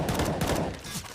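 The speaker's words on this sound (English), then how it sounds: "Right now, it's just pistols for Team Liquid." Pistol shots ring out in a Counter-Strike match on the Vertigo map, a dense, fast cluster of cracks packed into a second over busy background noise.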